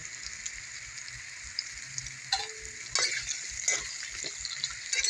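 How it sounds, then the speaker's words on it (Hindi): Pieces of bottle gourd frying in hot oil on high flame, a steady, moderately loud crackling sizzle with occasional sharper pops and stirring scrapes, no voices. "तो इस लौकी को हमें अब हाई फ्लेम पे ही अच्छी तरह से फ्राई कर लेंगे।"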